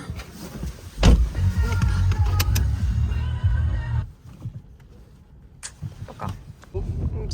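A car driving home into a village makes a low, rumbling road and engine drone heard from inside. It is strong at first, then drops to a quieter hum before rising again, with people talking over it.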